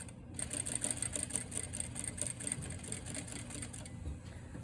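A sewing machine runs a short burst of stitching on a princess seam sample, a quick, even mechanical whir with a rapid ticking needle rhythm lasting a few seconds before stopping.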